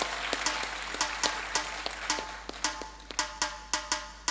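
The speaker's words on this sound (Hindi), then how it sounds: "भाइयों, तालियों से प्लीज़ स्वागत कीजिए" Scattered claps from a seated audience at a labour registration and awareness program, a dozen or so sharp, evenly spaced hand claps rather than full applause, moderately close with a steady low hum underneath.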